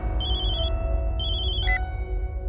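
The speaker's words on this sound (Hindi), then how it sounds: "आपके फातिमा वाले नंबर पर पाल का फोन आ रहा है।" An incoming-call ringtone on a mobile phone chimes loud and close in two short bursts of electronic tones over a low room hum, with no one speaking.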